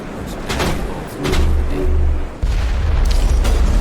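A sniper shot strikes the player in the Mass Effect video game, landing as a loud low boom with a heavy rumble, followed moments later by a second thudding impact amid the noisy game mix.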